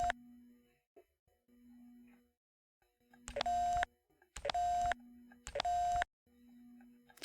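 Phone keypad tones from The X-Files video game on PS1, with a few isolated clicks followed by three loud, long beeps at even spacing, set against a soft repeating low tone and near silence between them.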